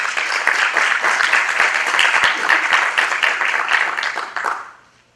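An audience at a Peruvian criminal-law event applauds to welcome a speaker, a dense, sustained burst of many hands clapping that holds steady and then fades out near the end.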